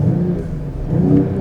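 Mercedes-AMG GT 43 4-Door idling and revving while stationary in Sport Plus mode, a loud, close, steady low engine rumble with a slight swell toward the end, no voices.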